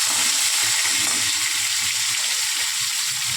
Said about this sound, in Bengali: তেলের মধ্যে অল্প জিরে ফোড়ন দিয়ে দিলাম এবার ওই যে আলুগুলো যেগুলো আমরা সেদ্ধ করেছি সেটা দিয়ে ভালো করে ভেজে নেব